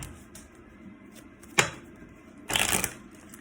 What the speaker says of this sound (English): I'm going to use these cards.